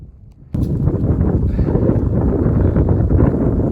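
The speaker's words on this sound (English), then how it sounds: "that wind is bitter" Bitter cold wind buffets the microphone on a mountain trail of the Appalachian Trail, starting abruptly after a quiet moment and then roaring steadily and loud without a break.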